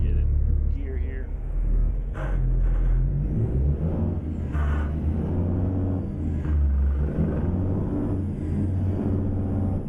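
Simulated truck engine in American Truck Simulator, a steady low rumble and drone pulling away in gear, continuous and fairly loud throughout, with a voice talking over it.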